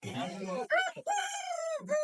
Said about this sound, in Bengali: এখানে দেখতে পাচ্ছি, এগুলো কি মুরগি ভাইয়া? এগুলো কি ব্রাহ্মা?